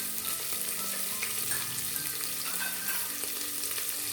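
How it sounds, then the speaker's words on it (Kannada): Onion, green chili and garlic fry in a little oil with cumin and dry red chilies, producing an even, unbroken close sizzle with faint stirring underneath. "ಈಗ ಎಣ್ಣೆಯಲ್ಲಿ ಫ್ರೈ ಮಾಡ್ಕೋತಾ ಇದ್ದೀನಿ"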